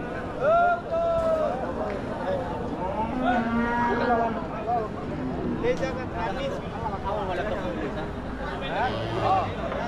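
Cattle lowing at a rural cattle market, several drawn-out moos rising and falling over the crowd's chatter and general bustle, fairly close and repeated throughout.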